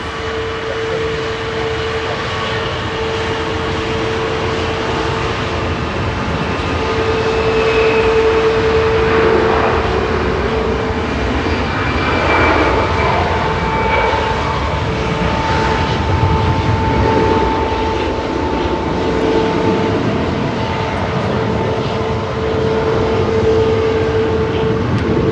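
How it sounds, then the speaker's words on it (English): An EasyJet Airbus A320 Classic on its takeoff roll at Manchester Airport, heading for Barcelona, gives a steady, fairly distant jet rumble with a faint sustained tonal whine, swelling slightly in the middle and holding on without pause. "EasyJet 201 to Barcelona on the roll, GZRX A320 Classic."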